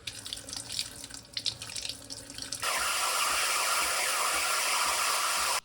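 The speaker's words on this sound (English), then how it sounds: "Then rinse it with some dishwashing detergent and cold water and screw it back on." A kitchen tap runs while the tip of a Breville espresso machine's steam wand is rinsed under cold water. Softer splashing gives way to a loud, steady hiss of running water that holds until it abruptly stops.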